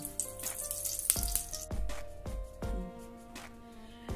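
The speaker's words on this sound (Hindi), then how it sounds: "अब हम डालेंगे हमारे कुकर में 2 से 3 बड़े चम्मच घी।" Ghee heats and sizzles in a pressure cooker, a close crackling fry with sharp pops and clanks of a utensil against the pot.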